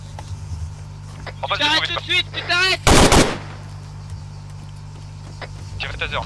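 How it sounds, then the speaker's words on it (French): Machine gun warning shots fired in the ARMA video game, a single loud burst partway through, with voices talking before and radio-like chatter around it. "Ouais, mais j'ai fait des tirs de sommation."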